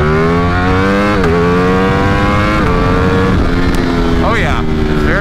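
A 2020 Ducati Streetfighter V4 with a BT Moto ECU flash tune accelerates hard, its engine note climbing steadily through the gears with brief dips at each shift, loud and close throughout.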